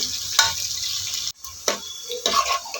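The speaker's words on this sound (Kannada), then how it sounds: "ಈರುಳ್ಳಿನ ಮಾತ್ರ ಚೆಂದ ಗೋಲ್ಡನ್ ಬ್ರೌನ್ ಬರುವ ಹಾಗೆ ರೋಸ್ಟ್ ಮಾಡ್ಕೋಬೇಕು" Onions roasting in a pan for kuska rice, a close crackling sizzle with a few scraping stirs and a brief cut-off, frying hiss returning in uneven bursts, no talking.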